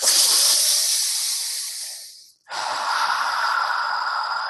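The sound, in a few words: ha breathing exercise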